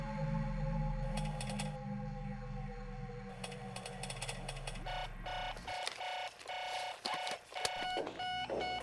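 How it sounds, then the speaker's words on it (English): Electronic beeps and tones repeat in quick bursts over a droning electronic hum, with clicks and chirps following. "this one starts off with beeping noises"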